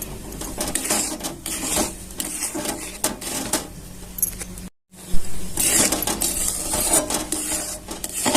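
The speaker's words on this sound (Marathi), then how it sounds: "चमच्याच्या साह्यानेच फिटायचं" A spoon beats a mango shrikhand mixture in a metal pot, a steady, close, rhythmic scraping and clatter that briefly stops before resuming more vigorously.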